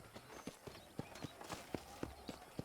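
A summoned horse gallops up in a video game, its hooves landing in a rapid, regular clip-clop rhythm that is faint but clear.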